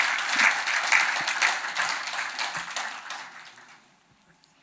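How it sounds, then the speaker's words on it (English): An audience claps for winners of a nature conservation award at a ceremony, a dense burst of applause that gradually thins and fades to near silence, with a last isolated clap. "can we hear a big round of applause for the Salim Ali Award for Nature Conservation and the J.C. Daniel Award for..."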